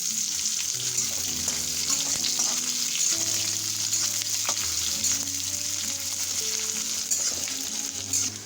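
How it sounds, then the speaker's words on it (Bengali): Chopped onions fry in a pan while a potato and bitter gourd dish is cooked, giving a steady, close sizzle that runs throughout. Faint background music and light stirring sit underneath it. "দিয়ে দেব আমি যে পেঁয়াজ কুচি করে রেখেছিলাম সেই পেঁয়াজ কুচি।"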